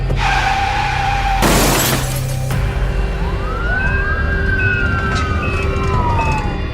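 In a sound effect, a car crash hits with a loud smash amid continuous noise while a siren wails and sweeps up and down before and after the impact.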